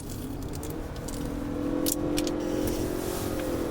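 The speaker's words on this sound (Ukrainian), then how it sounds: "покажемо, як ця машина їде." A Ford Kuga Hybrid SUV rolling along with a steady engine hum and road rumble, a faint rattle now and then, no talking.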